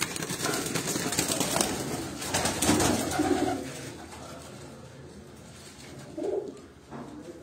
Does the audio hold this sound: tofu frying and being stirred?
no